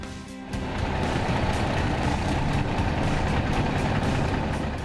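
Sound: Class 8 truck driving on test drive

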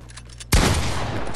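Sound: gunfire in the video game Fortnite

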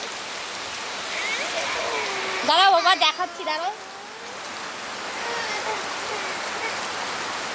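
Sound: heavy rain falling

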